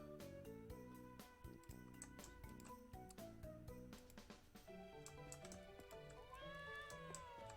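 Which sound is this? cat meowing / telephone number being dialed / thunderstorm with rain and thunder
cat meowing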